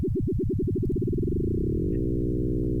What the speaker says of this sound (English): we're just modulating the pitch with an LFO, right? But it's modulating it so fast that we're creating all these interesting tones